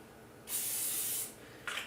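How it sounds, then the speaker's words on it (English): Aerosol cooking oil sprayed into a frying pan in a cabin kitchen, one steady close hiss lasting under a second, then a brief second burst starting. "Let me just spray some cooking oil in there."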